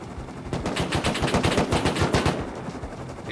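Rapid automatic gunfire at night in Rust, rounds striking a player's car wheel: a loud, dense burst of evenly spaced shots for about two seconds, then fading into background noise.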